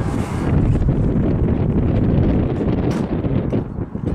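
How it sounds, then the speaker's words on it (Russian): Strong wind batters the microphone in a residential courtyard beside an artificial pond in Ryazan, a loud, unbroken low roar with no voices. "ветер сильный"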